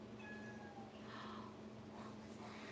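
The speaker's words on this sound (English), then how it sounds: "What was that meow?" A house cat meows softly in a kitchen, a few short tonal calls rising above steady room hum and background noise, fairly faint and not close.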